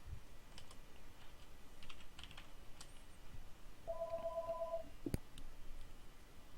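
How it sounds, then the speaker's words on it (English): Electronic car phone tone in a military video game, heard as a steady two-tone chirp lasting about a second, followed by a sharp click, over a faint background with scattered keyboard-like clicks. "Someone answer that car phone."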